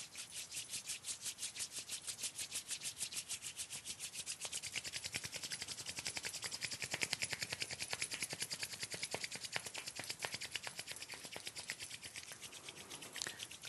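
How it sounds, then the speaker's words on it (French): Two hands rubbed together hard and fast at the close of a meditation, a quick, even rhythm of dry swishing strokes repeating for several seconds, close and fairly soft, with no voices. "On joint les mains et on les frotte avec beaucoup d'énergie"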